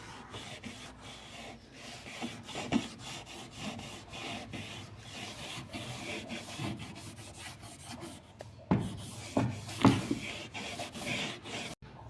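Dish soap and a comb scrubbing a refrigerator door gasket, a steady close rubbing and rasping scrape that repeats in short strokes, growing louder near the end, with no voices.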